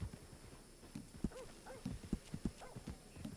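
Horse hooves clip-clop in Red Dead Online, a quiet, steady series of hoofbeats at a walking to trotting pace, close but faint, with no talk over them.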